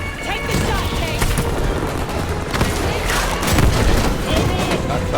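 Loud explosions and booming blasts from a rocket strike in the video game Call of Duty, dense with rumbling gunfire and crackling debris, sustained and close throughout.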